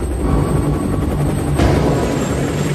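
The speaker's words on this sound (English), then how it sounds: "4 helicopters with team members aboard depart Fort Bliss." Several military helicopters with a rescue team aboard lift off from Fort Bliss, a steady loud rotor roar with low thumping throughout and a slight swell partway through, no voices.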